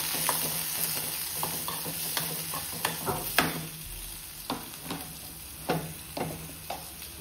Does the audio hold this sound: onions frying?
yes